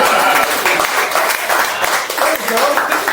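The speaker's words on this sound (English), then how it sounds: "We should applaud that" Applause from a business networking chapter meeting audience, steady dense clapping throughout with some voices mixed in, fairly loud and close.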